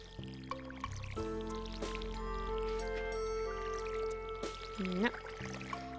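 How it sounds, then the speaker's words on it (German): In Stardew Valley, a watering can sprinkles crops with soft pouring, trickling game effects that sit under cheerful background music, with a voice talking over it. "Nicht immer doppelt gießen, Mädchen. Dann reicht das Wasser nicht."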